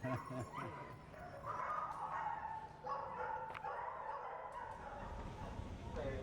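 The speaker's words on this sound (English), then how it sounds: "Here's a cute puppy." A puppy barks and yips in quick bursts, faint and mixed with a muffled voice and background noise.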